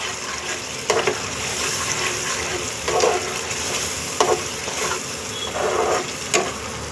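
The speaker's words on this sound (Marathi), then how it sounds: "हे बघा आता मी कांदा टॅमॅटो काजू बदाम हे फ्राय करत आहे." A paste of onion, tomato, cashew and almond frying in oil, heard as a loud, steady close sizzle with a few brief scraping strokes of a spoon at regular intervals.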